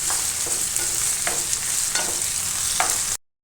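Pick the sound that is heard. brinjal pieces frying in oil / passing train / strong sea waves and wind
brinjal pieces frying in oil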